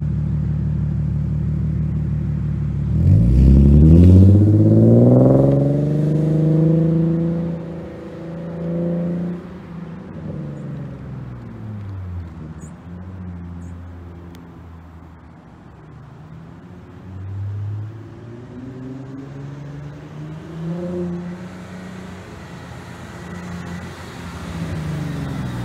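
An Infiniti Q50 engine revs up sharply, then rises and falls as the car accelerates and slows through turns, rumbling steadily throughout with no talking.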